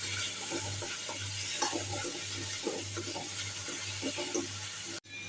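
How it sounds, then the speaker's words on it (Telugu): Green paste of ground mint, coriander and green chili frying in a pan, a steady soft sizzle with scattered stirring scrapes throughout and a low steady hum underneath, no talk. "ఇందులో ఉండే పచ్చివాసన పోయేంత వరకు బాగా వేయించుకోవాలి"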